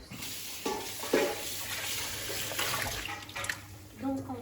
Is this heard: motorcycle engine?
no